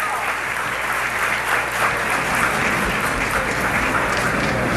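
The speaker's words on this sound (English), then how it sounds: "please give a big round of applause to Secretary Clinton" An audience at a journalists' event with Hillary Clinton bursts into loud, sustained applause, dense hand-clapping from a large crowd filling the hall with no break.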